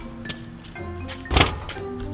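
A hammer strikes a metal safe with one solid, close thunk, standing out from a busy background.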